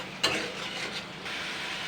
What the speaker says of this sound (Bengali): এই টমেটো আর এই পেঁয়াজ কুচানোটা 3 মিনিট মতন কষিয়ে নেবো